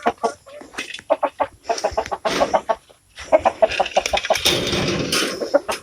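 Chickens cluck repeatedly in a chicken net enclosure on a farm in Bohol, Philippines, with a bird trapped in the netting; the clucks come in quick rhythmic bursts, close and loud, growing busier and more agitated toward the end.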